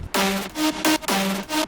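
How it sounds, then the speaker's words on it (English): Bass house synth chord with tremolo whose depth and width are automated, pulsing in a steady rhythm of swelling bursts and dips, loud and alone. "And I added this tremolo effect by automating the depth and the width."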